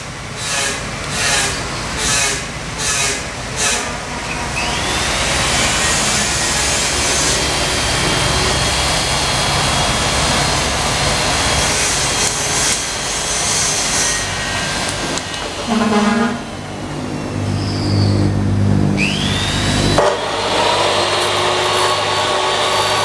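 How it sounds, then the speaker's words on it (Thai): Material for a homemade camera steadicam is cut with a hand saw in a run of rhythmic rasping strokes, followed by steadier grinding and scraping, heard up close. "อีกด้านสามเซนอ่ะตัดเลยน้อง"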